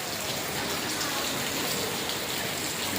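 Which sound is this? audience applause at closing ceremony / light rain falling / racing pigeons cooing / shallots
light rain falling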